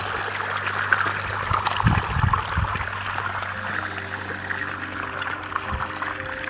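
Irrigation water runs into a wheat field in a steady outdoor trickle and gurgle, with faint low rumbles and no talking.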